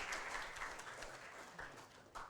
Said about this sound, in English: So we should at least applaud those,